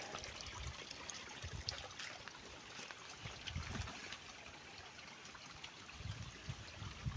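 Clear mountain water trickling steadily from a bamboo pipe outdoors, a soft continuous splashing flow heard close up with no talking.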